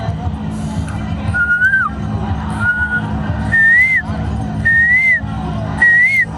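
A man whistles an imitation of a koel's call, several short rising whistled notes repeated at intervals over a loud, steady background rumble.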